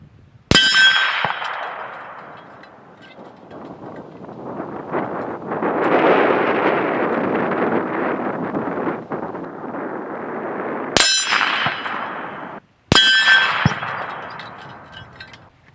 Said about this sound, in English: So we're going to go back and shoot the Hornady 162s and we'll see what happens.